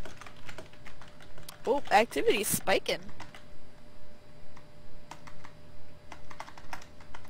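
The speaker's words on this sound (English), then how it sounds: "is that you typing so goddamn loud?" Loud computer keyboard typing picked up on a mic during a Phasmophobia session, steady clicking throughout with a brief burst of speech in the middle.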